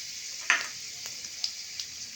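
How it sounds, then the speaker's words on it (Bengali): Panch phoron and a bay leaf sizzling in hot oil while cooking a Bengali dal with fish head, heard as a steady soft hiss with a few faint pops and crackles. "এই তেলের মধ্যে দেব 5 ফোড়ন, হাফ চামচ, একটা তেজপাতা"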